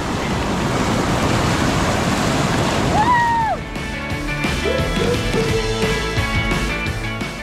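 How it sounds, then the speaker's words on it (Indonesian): Strong surf breaks on a beach along the south coast of Java, a loud steady wash of waves that fills the whole clip, with a brief tonal whistle-like sweep partway through. "Pantai Karangnawing memiliki ombak yang cukup kuat."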